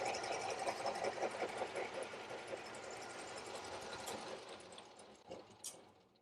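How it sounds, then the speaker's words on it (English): A metal lathe's lead screw turns as it cuts 20 threads per inch, producing a faint, steady mechanical whir with a quick rhythmic ticking that tapers off toward the end. "when we turn this on, that lead screw is going to turn at a rate that will produce 20 threads per inch"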